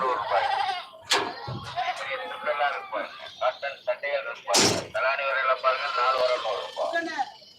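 Goats bleating amid a crowded Samayapuram goat market, frequent nearby bleats mixed with constant loud voices of traders talking, plus a sharp bang or knock midway.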